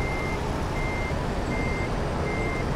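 Reversing beeps from a dump truck in Euro Truck Simulator 2, a steady series of four evenly spaced tones over a constant engine drone, with no talk.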